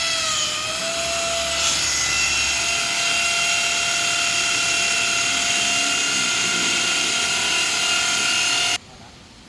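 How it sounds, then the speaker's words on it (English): A power drill whines steadily at a high pitch for several seconds, loud and close, before cutting off abruptly. "I'll let him drill first."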